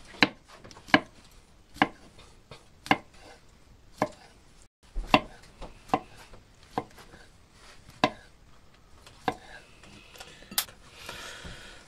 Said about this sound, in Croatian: Narezali smo šampinjone, sad idemo s lukom.